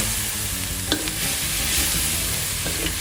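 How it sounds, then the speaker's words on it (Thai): Chilli curry paste stir-fried in a wok for a Thai seafood stir-fry, a close, steady sizzle with scraping strokes of a spatula against the pan and no talk. "ตั้งกระทะใส่พริกแกงผัดฉ่าครับ ผัดให้เครื่องพริกแกงหอมเลยนะครับ"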